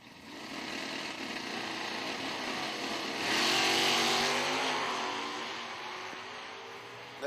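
A stock Camaro drag racing car at an IHRA drag strip launches. Its engine roar swells midway, then holds and fades slightly as the car pulls away in the distance.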